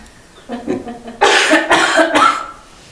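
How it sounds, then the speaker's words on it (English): A short voiced sound, then a few harsh, close coughs in quick succession, loud and raspy. "My cough is terrible."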